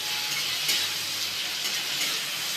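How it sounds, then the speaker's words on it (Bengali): Onions frying in a pan for a spicy egg chicken roll: a steady bright sizzle and hiss holds throughout, close and continuous, with faint stirring. "ভেজে নেবো, এবার যেটা ভেজে নেবে"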